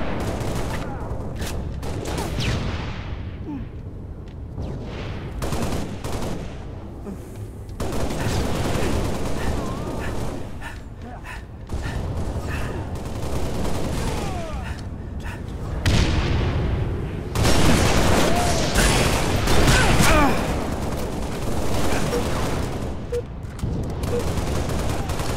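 Repeated rifle shots and battle noise in a Halo: Reach multiplayer match, a continuous dense mix of gunfire and booms with louder stretches near the end and occasional announcer speech.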